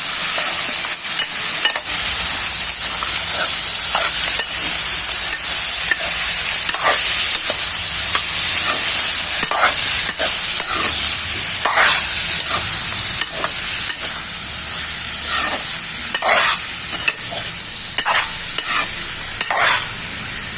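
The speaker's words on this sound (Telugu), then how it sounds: "అంతా ఒకసారి కలుపుకోవాలి." A spoon stirs dry fish curry with fenugreek leaves and coriander frying in a pan, giving a continuous loud sizzle with repeated scraping strokes throughout.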